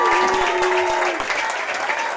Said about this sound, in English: the Fremington players come over to the applause of their fans here in the stand